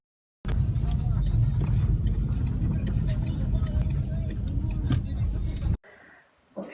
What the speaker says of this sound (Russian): мы едем уже в машине.